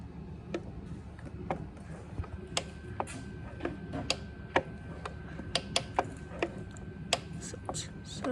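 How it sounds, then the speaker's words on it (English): A two-stroke engine's top end, with cylinder and piston exposed, is cranked over by hand, giving a series of sharp mechanical clicks and ratcheting ticks at irregular intervals, close and fairly quiet over low background rumble. "Let me try and crank it over for you."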